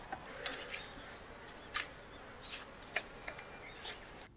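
Japanese honeybees (Apis cerana japonica) at a traditional wooden hive in summer, a faint, steady insect hum with brief nearer buzzes of single bees passing close now and then.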